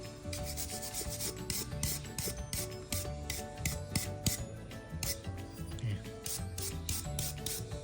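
Rust being rubbed off a SIG Sauer P320 pistol, a rhythmic series of close, scratchy rubbing strokes, repeated back and forth at a steady pace, with small metallic clicks underneath and no talking.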